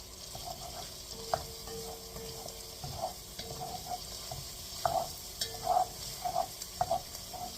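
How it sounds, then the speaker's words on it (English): Butter melting in a pan over low heat for a cream of chicken and rice dish, faint crackling sizzle with scattered utensil scrapes and stirring taps. "We're going to wait for the butter to melt."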